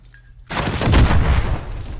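A burst of gunfire erupts abruptly after a short quiet moment in Call of Duty Warzone, loud and close, with rumbling reverberation trailing over the rest of the moment.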